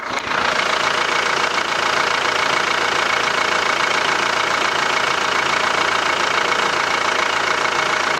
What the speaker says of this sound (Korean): 엔진룸 열어봤고 엔진 소리 한번 들어보도록 하겠습니다